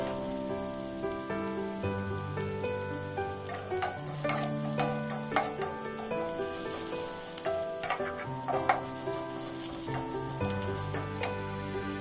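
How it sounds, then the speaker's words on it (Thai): Crushed dried chillies are stir-fried in hot oil in a pan, producing a continuous crackling sizzle with scattered sharp spoon clinks and scrapes, close and steady, with no voices. "จากนั้นก็ผัดให้หอม"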